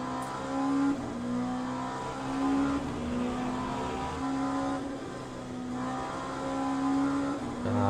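Hypercars in Le Mans Ultimate racing at Portimao, a steady loud engine drone with rising and falling pitch as cars pass and shift gears, continuous and close throughout.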